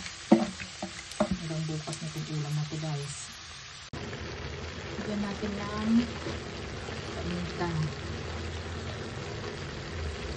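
Shredded cabbage sautéing and being stirred in a pan for ginisang repolyo, with scraping, clattering stirs early on and a steady sizzle running throughout, while a voice talks over it at times.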